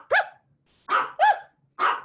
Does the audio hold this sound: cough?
no